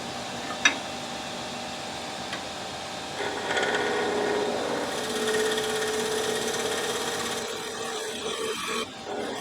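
Wood being scraped smooth while shaping a mallet from a 4x4, a steady close rasping and rubbing that builds after a few seconds and continues alone without speech.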